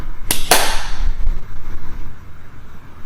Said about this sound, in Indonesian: Tepuk tangan dua kali